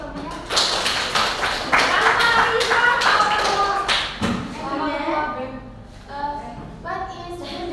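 Classroom children clap together in a burst of quick, loud applause that tapers off while young voices chatter over the end.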